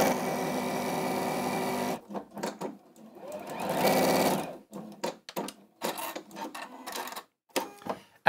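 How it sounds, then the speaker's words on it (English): A sewing machine stitching fabric to the end of a seam, a steady mechanical whir that runs for a couple of seconds, then short bursts of stitching with pauses between, close and fairly loud. "You just fold those to the edge there and you sew to the end."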